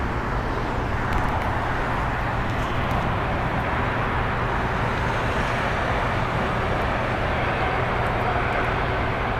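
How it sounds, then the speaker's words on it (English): A SkyWest Embraer E175LR flying for Delta Connection lands on the north side at LAX, a steady, moderately loud jet rumble with a constant low drone and no talking. "Landing on the north is a Delta Connection flight operated by SkyWest Airlines, Flight 3656, coming in from San Jose"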